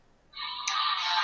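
A mobile phone ringtone goes off during a harmonica lesson: a steady, bright electronic tone that starts abruptly after a short quiet moment and holds fairly loud to the end, growing slightly stronger partway through.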